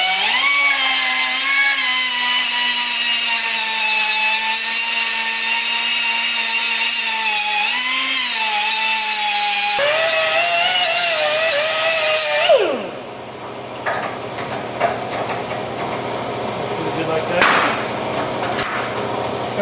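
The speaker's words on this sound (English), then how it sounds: "We're going to take we're just going to take a cutoff wheel here. And we're just going to take and grind a little bit right there." Cutoff wheel grinding away a small spot of metal for clearance on a Super Cub, a loud, steady high-pitched whine close by that shifts pitch midway, then cuts off into rougher scraping and handling noise.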